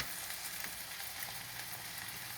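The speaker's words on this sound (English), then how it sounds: "Now I'm going to put my salmon in here, skin down first." Sockeye salmon frying skin side down in a hot pan, a steady, even sizzle with a dense crackling hiss that holds without pause throughout, no voices over it.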